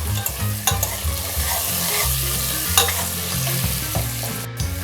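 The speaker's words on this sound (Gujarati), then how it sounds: "આપણે બધા વેજીટેબલ્સ 4 થી 5 મિનિટ માટે બરાબર આ રીતે સાંતળી લેવાના છે" Carrots, capsicum and peas stirred and sautéed in a cooker pan for Gujarati masala rice, a loud close sizzle with rhythmic scraping and clinking of the spoon throughout, no talking.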